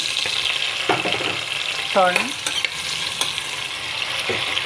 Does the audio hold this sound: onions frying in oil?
yes